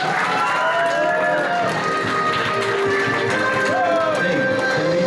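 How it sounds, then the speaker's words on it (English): An audience at an anime-style quiz show at PortConMaine 2016 bursts into sustained, loud clapping and cheering, a dense crowd wash filling the room, with voices mixed in. "Let's give him a round of applause."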